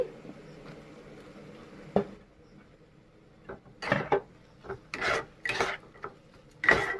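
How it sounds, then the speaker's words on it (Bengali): Chopped tomato stirred into fried spice paste in a pan over low gas for a Bengali bhola fish curry with potato and eggplant: soft scraping and rasping strokes, a few sharper spatula scrapes near the end, close and moderate. "টমেটো কুচি দিয়ে ভালো করে মিক্স করে নিচ্ছি"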